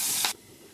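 Ground green chili and coriander paste hits hot oil with cinnamon and cloves, a sharp, loud hiss for a fraction of a second that cuts off abruptly to a faint background.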